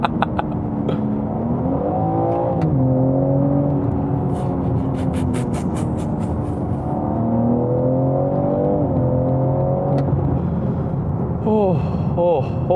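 A 2022 BMW M3 Competition xDrive accelerating on the road, heard from inside as a steady engine drone with rising harmonic sweeps through the gears, loud and continuous throughout.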